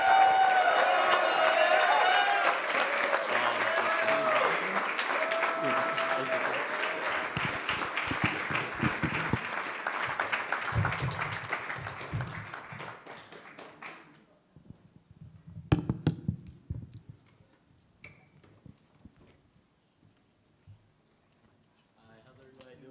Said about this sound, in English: So we can get a round of applause to our amazing brother, King